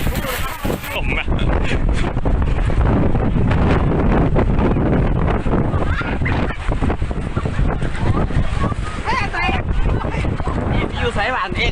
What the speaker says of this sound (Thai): ลมอ่ะ